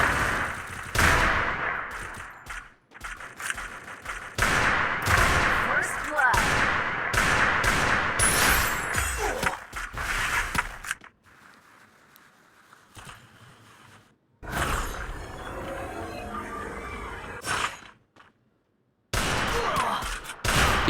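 Rapid gunfire and headshots in a shooter video game, with dense bursts of shots through the first half, a quieter gap, then further sharp volleys near the end.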